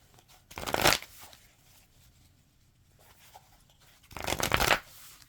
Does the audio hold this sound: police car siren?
no